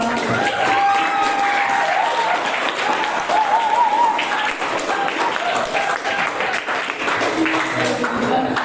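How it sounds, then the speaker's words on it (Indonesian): An audience at a public dialogue event breaks into sustained applause. Dense clapping fills the whole stretch at a fairly loud level, with crowd voices and faint background sound mixed underneath. "Mari kita berikan aplaus"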